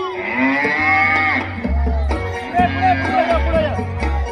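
Long, drawn-out cow moos are imitated in a sing-song voice over a steady musical backing, repeating in a rhythmic pattern, at a school annual gathering performance.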